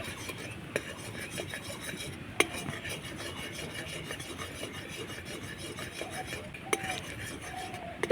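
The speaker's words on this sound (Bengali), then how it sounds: "এবার ভালো করে একটু মিশিয়ে নেব" Condensed milk mixture is stirred in a pan over a lowered flame, giving a steady low scraping and rubbing with a few brief clinks, alone and fairly quiet throughout.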